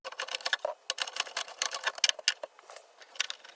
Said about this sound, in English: So let's start unscrewing these 4 bolts.